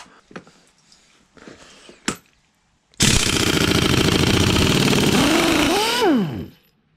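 A Parkside pneumatic impact wrench loosens a fully tightened bolt in one loud, continuous three-second burst of rapid hammering after a few faint knocks, with the pitch rising and falling as it strains before cutting off.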